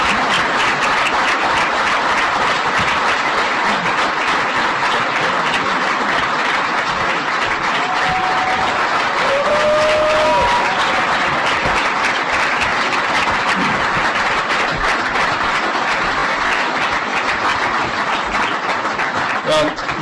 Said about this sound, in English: We've got applause